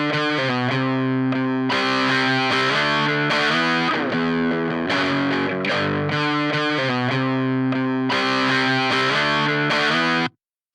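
Electric guitar from a Dunable Cyclops DE, heavily distorted through a Two Notes Wall of Sound and captured with an SM57 mic. Loud sustained chords ring out with short breaks, then cut off near the end.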